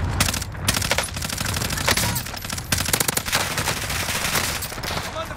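Dense automatic gunfire and rapid bursts from a Call of Duty: Warzone match, loud and continuous across the clip, with sharp overlapping shots and a few heavier cracks.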